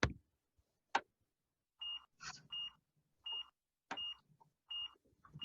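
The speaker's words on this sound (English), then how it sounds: "it's the sound of a pedestrian crossing beeping" A UK pedestrian crossing signal beeps in an even, repeating rhythm, preceded by a couple of sharp clicks, fairly quiet against silence.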